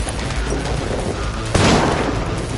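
Loud sustained gunfire in the video game Cyberpunk 2077, a dense barrage of shots and booms that swells sharply partway through, with no talk.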